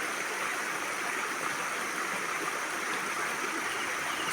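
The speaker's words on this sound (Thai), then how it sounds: "นี่คือ ยอดเขา ที่กำเนิดของน้ำนะครับในยอดเขาเลย ที่มีตาน้ำนะฮะ" Mountain spring water flows steadily at a hilltop source of a stream in Si Satchanalai, a constant close rushing wash with no break and no voices.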